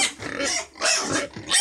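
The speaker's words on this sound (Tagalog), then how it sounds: "Ayan, yung malaking baboy." A large pig on a farm gives three loud, close, rough grunts in quick succession, each a harsh snorting burst with short gaps between.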